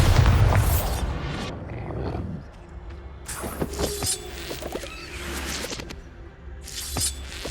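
In the video game Hogwarts Legacy, a Bombarda spell sets off a loud booming blast with shattering debris at the start, followed by scattered crumbling and clattering against rumbling background ambience.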